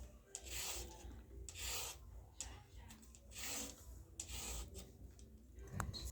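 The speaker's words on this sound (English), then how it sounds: "grate your carrots" Carrots are rubbed against a grater in rhythmic rasping strokes, each pass a short scratchy burst, close but fairly quiet, while onions and green capsicum wait to be prepared.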